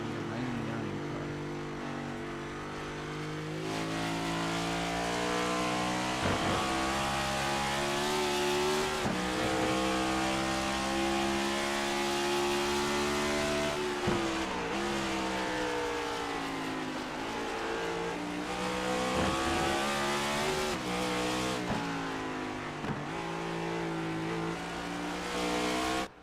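Race cars in a simulated racing-league event at a Finger Lakes track, several engines droning and rising through gear shifts in a continuous loud roar with repeated revving climbs and drops, commentary speech running underneath.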